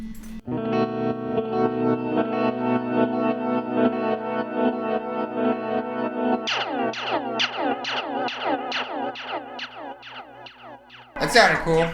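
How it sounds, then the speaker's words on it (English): Guitar played through a delay pedal in a country-western style: a long sustained chord gives way to a run of rhythmic plucked notes, each repeating in echoing decays, ending in a sudden louder burst. "can hit some delay and get some of those sounds happening"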